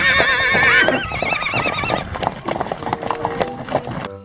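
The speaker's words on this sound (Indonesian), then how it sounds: "Lihat, di sini ada hewan kuda." A horse gives a loud, close whinny that wavers for almost a second, then its hooves clop and shuffle in quick irregular steps alongside scattered knocks and movement noise.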